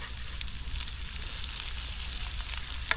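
Wild water spinach frying in a pan, a steady soft sizzle and crackle with occasional small pops, faint and continuous without talk.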